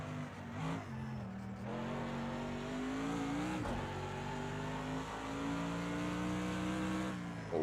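A Mercedes AMG GT3 race car in Project Cars 2 at Bathurst revs hard under acceleration, a loud, close engine note climbing steadily through the gears, with a brief shift dip midway and no talk.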